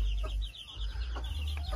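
A hen on a small farm gives a few short clucks spread across under two seconds, close and moderately loud over a low background hum.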